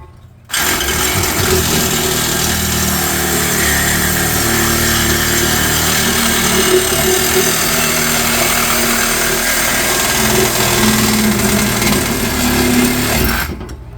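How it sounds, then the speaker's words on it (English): A power tool cuts through a car exhaust pipe, a loud, continuous grinding whine that starts suddenly and runs steadily for about thirteen seconds before stopping, with no talking over it. "we're gonna cut this exhaust"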